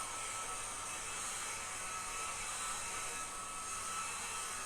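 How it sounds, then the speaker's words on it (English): A hairdryer blows continuously at a steady, fairly faint level, a smooth airy whoosh that never changes, with no talking. "You just needed a hairdryer."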